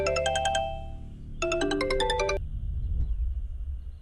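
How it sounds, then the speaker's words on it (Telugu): A mobile phone ringtone chimes loudly in two bursts of bright repeating electronic tones, a short pause between them, over a low steady background hum in a thriller film scene. "ఆ ఫోన్ అటెండ్ చేయరా."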